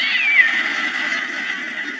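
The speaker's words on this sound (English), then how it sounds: "Genuine noise there of a cat being given a reach around." Cat meowing in a long, drawn-out yowl, close and fairly loud, with a steady sustained tone and no talk.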